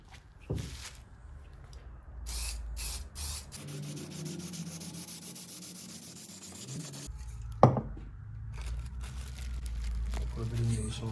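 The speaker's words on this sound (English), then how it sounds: "So I'm going to spray that on now." A steady aerosol spray of oil onto a K&N air filter for a Mercedes 190D 2.5 hisses for a few seconds, preceded and followed by close rubbing and handling noises, with a person speaking nearby.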